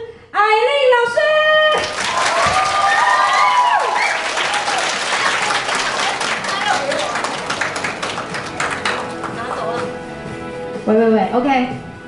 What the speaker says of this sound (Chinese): 我们用热烈的掌声欢迎我们今天的主讲老师